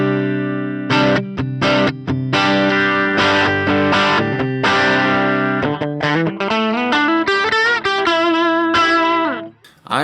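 An electric guitar plays through a modeled amp with overdrive pushed all the way up on an HX Stomp, giving sustained distorted chords and then a run of quicker notes, loud and close, with no talk.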